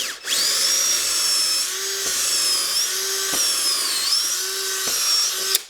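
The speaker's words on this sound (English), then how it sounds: "this appears to be a much higher speed drill" Harbor Freight Hercules cordless drill in drill mode at speed setting 2 boring into wood, a high-pitched motor whine held steadily with brief dips in pitch as it loads, close and loud.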